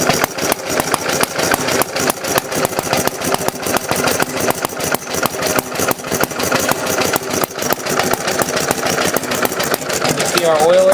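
A 1921 Briggs & Stratton Model F engine runs steadily with a fast, even chugging beat and a metallic rattle, loud and close, while someone talks over it.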